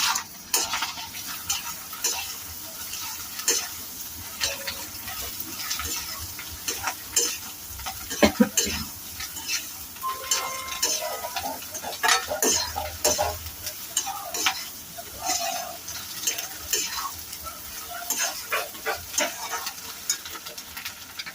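A spatula stirs egg fry with homemade masala powder in a hot pan, oil sizzling steadily beneath irregular scraping and clinking strokes against the metal, close and clear with no talk.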